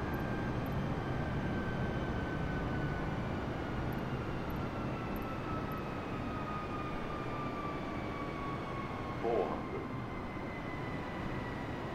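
Steady engine drone of a light aircraft on final approach in Microsoft Flight Simulator 2020, a continuous broadband rumble with a faint whine slowly falling in pitch as the throttle eases back, with no talk.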